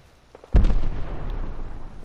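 A single heavy shot in Fallout 4 gameplay, likely from a shotgun, booms out once at moderate distance with a sharp onset and a long rumbling tail that lingers under low background noise.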